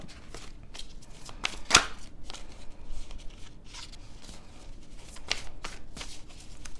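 Large tarot cards being shuffled by hand, a quick series of crisp papery riffles and slaps, close and moderately loud, with one sharper snap near the start.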